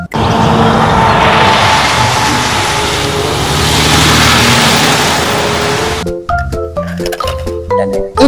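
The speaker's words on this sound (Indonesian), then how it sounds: "Dan juga ada truk kontainer" A toy container truck gives a loud, continuous rumbling engine-like drone for about six seconds, then breaks into short clattering knocks and plastic thuds.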